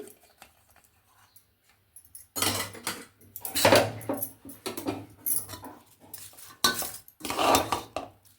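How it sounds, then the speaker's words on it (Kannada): Spice tempering is poured from a small pan onto cooked rice for curry leaf rice, giving a few close metallic scrapes and clinks of spoon against vessel between quiet pauses. "ಒಗ್ಗರಣೆ ಮಾಡ್ಕೊಂಡಿದ್ದೀನಲ್ಲ, ನೋಡಿ ಇದನ್ನು ಇವಾಗ ಅನ್ನದ ಮೇಲೆ ಹಾಕ್ಕೊಳ್ಳೋಣ"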